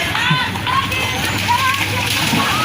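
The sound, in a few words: children swimming and splashing in floodwater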